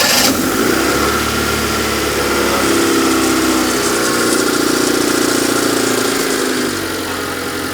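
A Proton Satria's engine, its airbox removed, cranks and catches, then settles into a steady, loud idle heard up close, with a brief rise in revs before the idle quietens slightly near the end.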